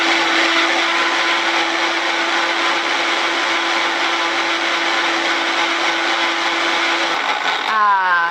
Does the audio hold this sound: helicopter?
no